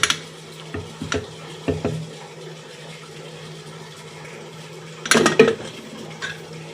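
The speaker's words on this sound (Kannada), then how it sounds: "ಇದು ಲಿಡ್ ಓಪನ್ ಮಾಡ್ತಾ ಇದ್ದೀನಿ" A cooled-down pressure cooker lid being opened in a kitchen after cooking greens and lentils, with a few metallic clanks early on and a louder rattling clatter of the lid near the end, a steady low hum underneath, no talk.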